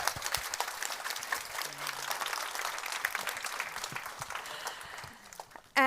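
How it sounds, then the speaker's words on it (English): Sustained audience applause at a Nordic female investor meetup, many hands clapping steadily for a pitch-winning founder, a brief louder burst right at the end. "Give her a warm round of applause."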